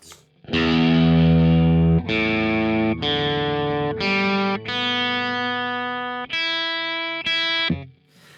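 Distorted Telecaster electric guitar through a high-gain amp, a series of sustained ringing chords played one after another, loud and saturated with no voices.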